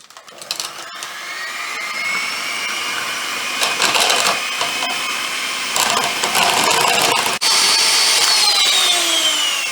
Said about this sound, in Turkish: Ve mikserle çırpmaya başlıyoruz.